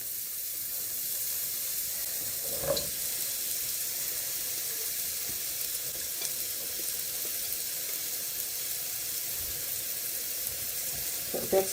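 Onion, leek and potato sauté in melted butter in a pan, giving a continuous even sizzle with a few faint clinks and stirring knocks, no voices over it.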